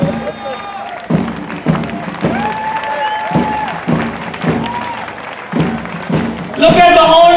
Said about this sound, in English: Look at the old OBMs from the early batches clapping away to their juniors on the right side